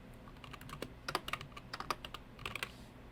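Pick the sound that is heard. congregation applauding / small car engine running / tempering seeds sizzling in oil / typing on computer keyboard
typing on computer keyboard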